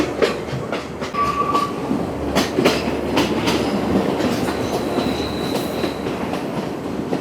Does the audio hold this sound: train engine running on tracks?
yes